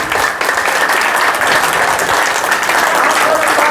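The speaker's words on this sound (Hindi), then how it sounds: "सभी को एक बार ताली, एक बार जोर से सबके लिए" An audience at a yoga teachers' certificate distribution ceremony claps steadily, a dense, continuous round of applause from a sizeable crowd, loud and sustained throughout without any voices rising above it.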